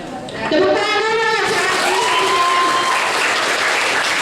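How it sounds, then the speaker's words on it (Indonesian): Audience applause at a traffic safety outreach session run by a regency transport office in Bogor, a loud, steady burst of many hands clapping that swells in quickly and holds, with a voice briefly audible over it at the start. "Tepuk tangan dulu."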